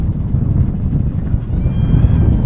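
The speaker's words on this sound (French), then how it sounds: "Alors là, le vent qui se lève." Wind blowing across an outdoor youth soccer field during a Jeux du Québec match, a loud steady rumbling gust buffeting the microphone with no clear voices.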